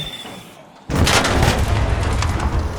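After a quiet, muffled moment, a sudden loud explosion in the video game Arc Raiders erupts and settles into a sustained rumbling roar, with no talking.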